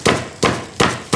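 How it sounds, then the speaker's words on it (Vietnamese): A hammer pounds dried squid in four sharp, evenly spaced thuds, close and loud, each blow decaying quickly before the next. "Các kiểu này là đập mực."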